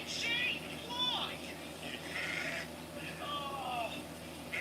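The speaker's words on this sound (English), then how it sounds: "sheep!" Sheep bleat several times in wavering, nasal calls, moderately near, with a voice talking over part of the clip.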